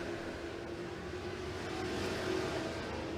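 Classic race cars run hot laps at Tazewell Speedway, a steady broad engine roar from several cars at a distance, rising a little in the second half with no voices over it.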